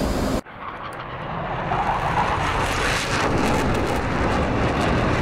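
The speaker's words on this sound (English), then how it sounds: "Afterburner on." A jet's afterburner kicks in within the DCS flight simulator game, a sudden broadband roar that swells after a brief cut and then holds loud and steady to the end.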